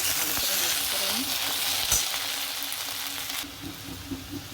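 Fried vegetables stirred in a pan with a paste of ground puffed rice in a home kitchen, a steady close sizzle and frying hiss with scraping stir strokes, quieting slightly toward the end.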